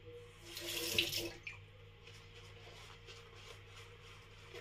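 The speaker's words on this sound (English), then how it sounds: "just wet at the brush a bit" Water runs from a tap to wet a brush, with a brief loud splash at first that settles into a quieter, steady trickle.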